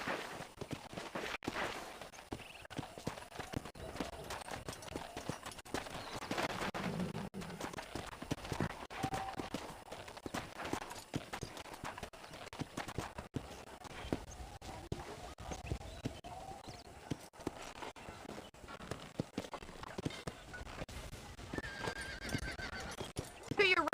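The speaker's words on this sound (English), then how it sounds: "I picked out a fine horse for you." A horse in the Red Dead Redemption video game clip-clopping along steadily with a whinny, fairly faint, with character voices speaking over it.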